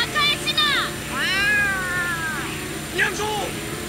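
Cartoon cat meowing several times in drawn-out, wavering cries, loud and close, with a short gap before a final meow.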